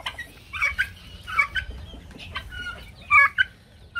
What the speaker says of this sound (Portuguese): tem essa galinha aqui